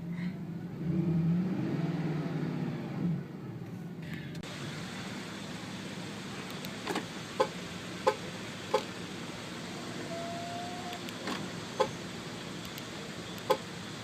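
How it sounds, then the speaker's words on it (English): A 2011 Mercedes-Benz SLS AMG exhaust rumbles low and muffled from inside the quiet cabin, swelling for a few seconds before fading to a faint drone broken by light clicks. "You still hear the pleasant exhaust note in back."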